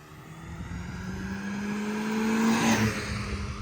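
A drag car launches hard down the strip at a Volkswagen fair, its engine note climbing steadily as it pulls away, loud and sustained over crowd noise before easing off at the end.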